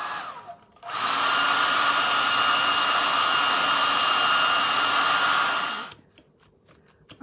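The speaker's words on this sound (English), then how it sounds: "I'm going to give this one more quick dry because I really want it dry." Hair dryer blowing steadily on a painted craft pumpkin, a loud continuous whir switched on for about five seconds and then cut off, alone without talk.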